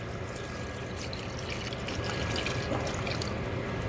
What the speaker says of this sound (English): So I'm going to add a little more water to this.